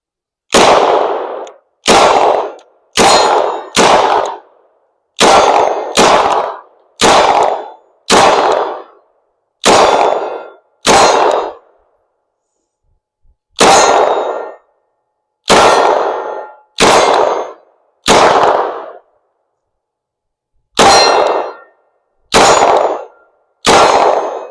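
Loud, sharp metallic clangs from steel targets hit by fire from an IMI Micro Uzi, sounding as single and paired strikes in bursts with short gaps between them.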